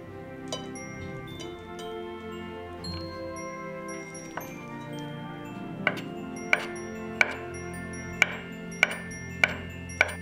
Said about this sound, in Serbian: iseći ću 4 kuvana krompira